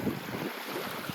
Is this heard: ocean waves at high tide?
yes